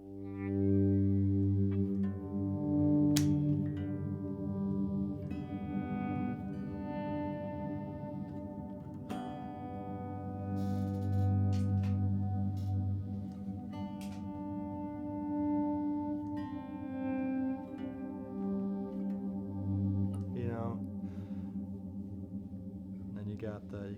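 Electric guitar played through a Line 6 Helix with a spacey reverb setting, sustained chords and swelling notes ringing out with long washy tails and chorus-like shimmer, alone without talk.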